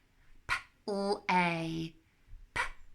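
A pet dog gives two short sharp barks and a drawn-out whiny yelp nearby while a woman sounds out letters for a phonics lesson.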